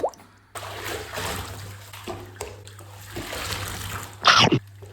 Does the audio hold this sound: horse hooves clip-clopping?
no